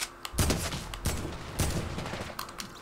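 Gunfire in the video game Fortnite: a few sharp, well-spaced shots, each followed by a short rattling tail, heard fairly quietly and with no talk.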